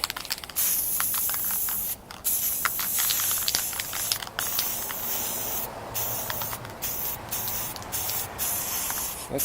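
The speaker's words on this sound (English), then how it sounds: "we're going to just spray right down on them with the white spray paint, the primer" Bursts of white aerosol spray primer hissing onto miniatures in repeated long blasts, separated by brief pauses, loud and close to the microphone.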